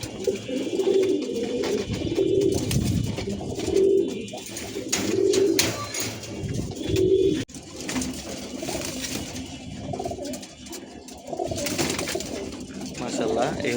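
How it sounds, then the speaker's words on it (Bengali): A female Musaldom pigeon coos in a steady series of soft, repeated low calls close by, with a person's voice heard in the background. "এই হচ্ছে মাদি কবুতরটি"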